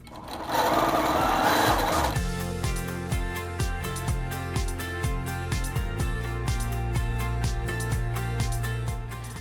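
A sewing machine stitches steadily for thread painting, its fast, even mechanical rattle running loud and close with small rhythmic shifts in pace, after a brief burst of broadband noise at the start; no one speaks.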